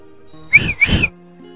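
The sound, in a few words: man whistling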